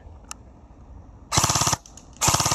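An SSR4 airsoft rifle fires two full-auto bursts, each a loud, rapid string of shots lasting under half a second, separated by a short pause, with a faint click beforehand.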